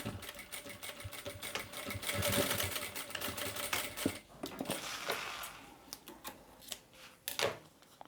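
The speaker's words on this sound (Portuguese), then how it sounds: "Então, vou passar uma costura aqui." A sewing machine runs a seam on a fabric pouch meant for baby items or makeup, giving a continuous fast mechanical rattle that sharpens near the middle and trails off in brief bursts, with no talk.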